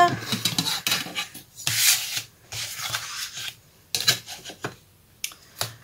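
A craft knife slices through thick white paper folded at about 11 cm, giving close, rasping scrapes in uneven strokes separated by short pauses, with no talking.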